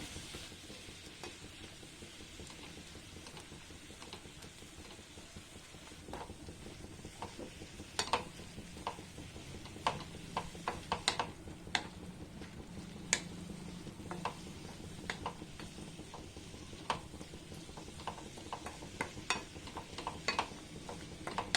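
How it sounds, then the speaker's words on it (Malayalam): Quiet continuous sizzling with scattered light clicks and taps of a spoon stirring beans cooking in a pan, close and steady throughout. "ഇനി നമുക്ക് നന്നായിട്ടൊന്ന് മിക്സ് ചെയ്ത് കൊടുക്കാം"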